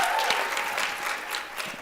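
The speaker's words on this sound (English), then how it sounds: "Please give her a round of applause." An audience at a national advocacy conference applauds, a dense, steady wash of many hands clapping at moderate distance with no talk over it.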